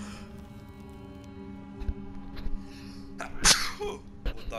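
One sharp, loud human sneeze bursts out about three quarters of the way through, over the quieter hum and ambient sounds of the Shadow of the Tomb Raider video game.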